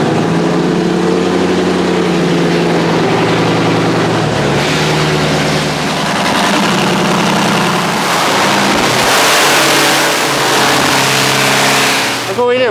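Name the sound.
Hellcat-swapped Dodge Viper engine revving loudly on dyno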